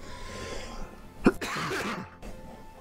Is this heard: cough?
yes